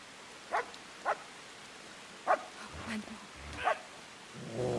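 A dog in the medieval role-playing game Kingdom Come: Deliverance gives several sharp, evenly spaced barks, moderately loud, with low rumbling game sounds and some voice between them.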